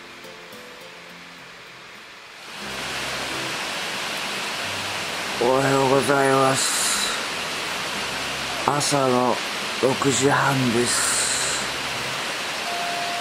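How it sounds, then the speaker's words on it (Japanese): Heavy rain pours outside a secluded mountain hot spring inn in Tochigi, a loud, steady hiss starting after a quiet moment and continuing throughout, with a person speaking over it at close range. "すごい雨降ってるんですけど"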